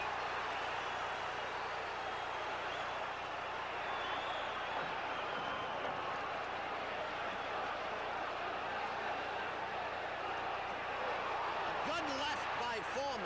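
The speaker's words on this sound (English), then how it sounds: "the crowd roars" Boxing arena crowd during the George Foreman vs Joe Frazier rematch, a sustained loud roar of thousands of spectators with steady broadband noise throughout, swelling slightly near the end with a commentator's voice faintly beneath.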